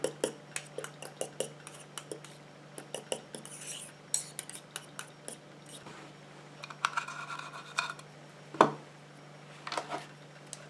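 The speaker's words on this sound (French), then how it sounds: "Et je viens mélanger." Coconut milk and donkey milk shower gel being stirred by hand, a utensil clinking and scraping against its container in quick, irregular taps, close and fairly quiet over a steady low hum.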